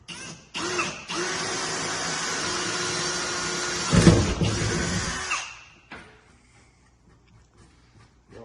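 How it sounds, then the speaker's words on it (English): A power drill with a 7/32 bit whirs steadily for about five seconds, drilling seat-mount holes in a Seaark boat, rises briefly, then winds down, followed by quiet handling noises nearby. "You want a 7/32 drill bit. To drill these,"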